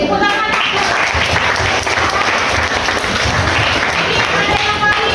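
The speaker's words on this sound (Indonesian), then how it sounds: "Oke, tepuk tangan." A room full of people claps together at a classroom teaching session, a busy, continuous patter of hands that stays fairly loud and even for several seconds.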